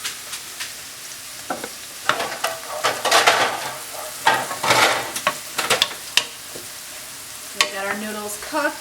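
Onions frying in a pan for a zero carb paleo pesto pasta, a steady soft sizzle with intermittent scraping stirs and clatters close by.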